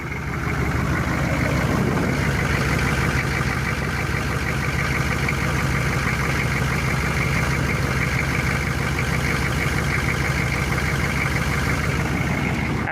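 A 6.5L turbo diesel truck engine idles loudly and steadily nearby, a dense continuous diesel rumble with a rapid knocking clatter running through it without pause.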